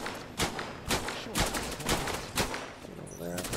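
Gunfire in the video game Cepheus Protocol: a handful of sharp shots land about every half second, loud and close, with faint game sounds between them.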